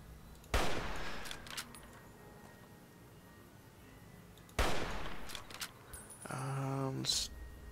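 A bolt-action rifle in Fallout New Vegas fires two sharp, loud shots several seconds apart, each ringing briefly, followed by a rapid mechanical bolt-cycling rattle, with quiet gaps between.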